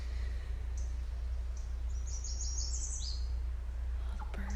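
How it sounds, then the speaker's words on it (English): Birds singing outdoors in grassy, overgrown former golf course land, with several chirps and short whistled calls scattered over a steady low rumble of background noise. "Oh, the birds are so beautiful."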